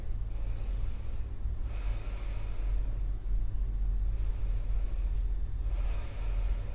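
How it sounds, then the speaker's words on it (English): Slow, deep, audible breaths drawn in and out through the nose during a challenging yoga posture, close and steady in long rhythmic cycles with no talking. "Nice deep inhale."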